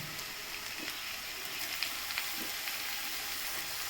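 Ridge gourd and potato pieces fry with garlic in oil in a pan, giving a steady, fairly quiet sizzle throughout with a few faint scraping clicks, and no voices.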